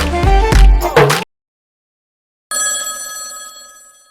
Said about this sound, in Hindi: जब भी कहीं जाने का सोचता हूँ कॉल बजता ही रहता है।